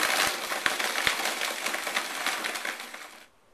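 A blender runs on mocha frappuccino ingredients, including chocolate syrup and sugar, making a loud, steady grinding whir with ice-like clatters for about three seconds before it cuts off abruptly.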